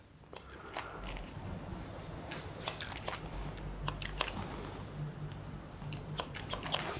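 Scissors snip hair during a medium-length haircut, producing quick, crisp, close clicks in irregular bursts over a quiet background.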